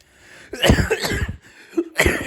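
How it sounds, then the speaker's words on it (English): Several harsh coughs in a quick series, close and loud, with a brief pause before a final cough. "Now look what you did. You made me cough."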